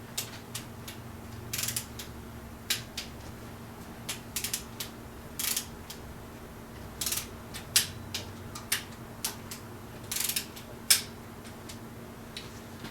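Torque wrench tightening the cylinder head bolts on a Rolls-Royce 20-25 engine. Sparse, sharp clicking ticks come in small irregular bursts over a quiet background hum.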